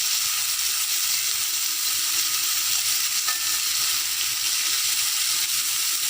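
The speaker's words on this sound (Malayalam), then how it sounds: "ഇത് ഇളം ചുവപ്പാവുന്ന വരെ ഇത് ഒന്ന് വഴറ്റി കൊടുക്കുക" Koorka (Chinese potato) sautéing with green chillies in a hot pan, a steady bright sizzle and frying hiss with light stirring throughout, close and loud, no voices.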